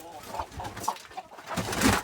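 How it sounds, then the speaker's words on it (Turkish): Chickens cluck and a rooster calls amid farmyard noise, with voices speaking nearby. "Bu horozumuz erkek."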